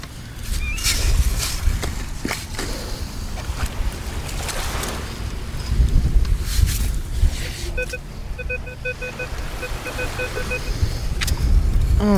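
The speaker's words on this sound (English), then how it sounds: "Sorry about the wind noise" Gusty wind buffets the microphone on a big beach during metal detecting, a rough, fluctuating roar with scattered knocks and brief electronic beeps from the detector running through it.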